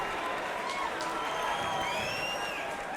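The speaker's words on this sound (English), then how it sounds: "And the crowd really pumped up for this one." A large crowd at a 2006 Bodogfight mixed martial arts event cheering and roaring continuously, a dense, steady wash of voices filling the arena.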